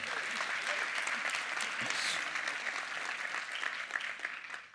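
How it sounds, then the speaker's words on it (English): A keynote audience at Atlas Camp 2018 breaks into a big round of applause, a dense, continuous patter of many hands that stays strong throughout. "big round of applause"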